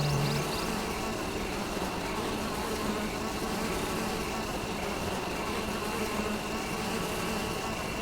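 A dense swarm of bees in Zork Grand Inquisitor drones in a loud, continuous buzz that holds steady and close throughout, with no talking.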